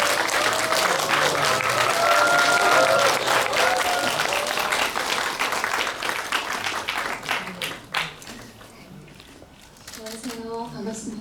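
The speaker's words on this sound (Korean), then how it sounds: "박수로 맞아주세요." Audience applause at a Korean film event welcomes the actress as a guest onto the stage, a loud, dense burst that gradually thins and fades, with voices and cheering mixed in toward the end.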